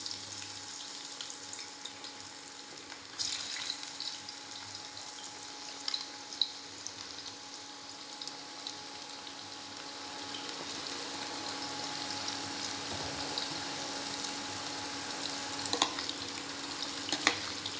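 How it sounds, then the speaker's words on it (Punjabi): Ridge gourd (tori) slices frying in hot oil in a pan, giving a steady, dense sizzle throughout, with a few brief utensil knocks and stirs breaking through. No one speaks. "ਤੇਲ ਆਪਣਾ ਗਰਮ ਹੋ ਗਿਆ ਜਿਹੜੀ ਆ ਟਿੰਡੋ ਕੱਟੀ ਆ ਆਹ ਤੋਰੀਆਂ ਕੱਟੀਆਂ ਨੇ ਇਹਨਾਂ ਨੂੰ ਆਪਾਂ ਵਿੱਚ ਫਰਾਈ ਕਰ ਲੈਣੇ ਆ"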